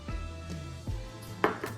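Cornstarch being stirred into peach juice for a cobbler, with a spoon clinking and scraping against a bowl in a few quick strokes, close and moderately loud.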